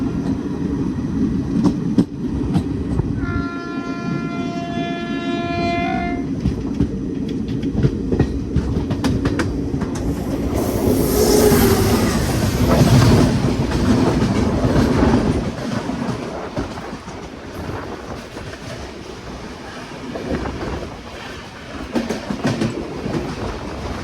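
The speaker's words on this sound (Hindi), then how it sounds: "काफ़ी रफ्तार में थी ट्रेन, पता भी नहीं चला।" An Indian special passenger train running at high speed with a continuous rumbling roar and wheel clatter, a brief tonal squeal early on, swelling louder midway and staying steady throughout.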